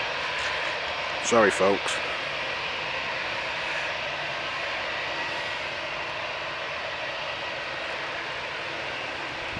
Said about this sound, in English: EasyJet A319 to the Isle of Man, lining up on the runway.